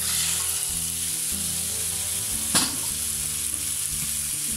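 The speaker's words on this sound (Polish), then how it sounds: "Na rozgrzany olej dajemy piersi z kurczaka." Steady hiss of chicken breasts frying in hot oil in a pan, continuous sizzling with a brief louder crackle partway through.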